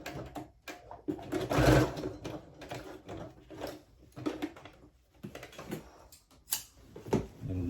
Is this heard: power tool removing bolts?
no